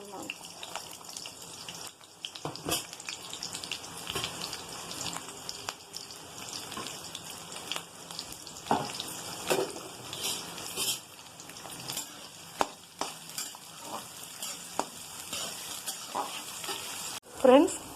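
Tempering spices fry in oil in a pan for a bitter gourd and brinjal dish, a continuous close sizzle with repeated scraping stirs and a few sharper clatters.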